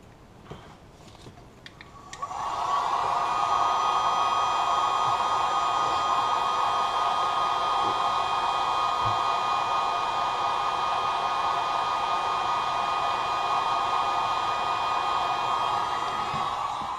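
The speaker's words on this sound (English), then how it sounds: "And then we're going to hit it with the heat gun." A heat gun shrinks heat-shrink tubing over a motor connector during an airsoft MOSFET install. After a few quiet seconds it switches on and roars with a loud, steady, close blowing hiss that continues unbroken to the end, with no voices.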